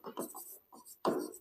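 Writing on a board during a maths lesson, a few quick scratchy strokes of marker or chalk in short bursts, faint and close, with a final stroke a little louder.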